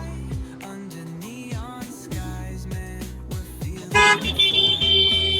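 Busy road traffic near Warbe village on the Pune–Satara route, with repeated car horns honking in short toots and longer blasts over a steady engine rumble, getting louder and denser toward the end.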